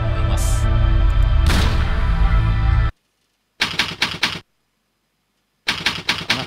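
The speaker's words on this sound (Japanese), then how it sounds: "なんかこのタイプライターの音が" Typewriter clacking from the Heaven Dust video game: a dense run of keystrokes ends in a carriage chime, then silence, then two short bursts of rapid typing, loud and close with no talking.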